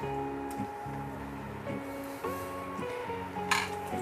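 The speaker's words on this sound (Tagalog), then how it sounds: "Tuloy-tuloy lang tayo sa paghalo." Garlic buttered mussels being stirred in a pan: soft shell clinks and scraping knocks in an irregular rhythm, close and fairly quiet over a faint sizzle, with music tones running underneath.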